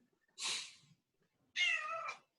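A cat meows twice indoors during a yoga session, a short breathy call followed by a longer tonal meow, both close and moderately loud with quiet between them.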